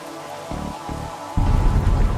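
Rain falls at a castle in the Darkside Detective 2 video game, a continuous patter joined by low rumbling swells of thunder that grow heavier toward the end.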